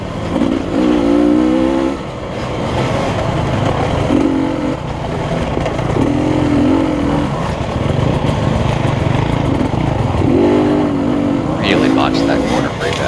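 A motorcycle in a race at LaCygne, Kansas, climbs a small hill, its engine note rising and dropping through several gear changes with a steady broad roar underneath, loud and close throughout.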